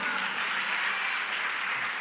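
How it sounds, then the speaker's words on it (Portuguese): A church congregation applauds, a brief, even wash of many hands clapping at moderate distance with no single voice standing out. "Aplauda o Senhor Jesus"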